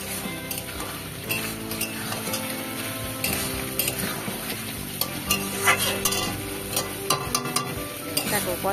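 Chicken with gach patha fries in a pan, a dense, close sizzle with rhythmic spatula scraping and clinks throughout, loud and continuous.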